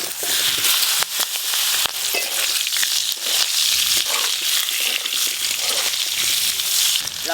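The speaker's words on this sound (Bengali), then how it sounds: "শোল মাছের ঝালের জন্য মূলোগুলো ভেজে নেব।" Radishes frying in a pan for a Bengali shol fish curry: a close, dense, steady sizzle full of crackles, with occasional stirring clatter.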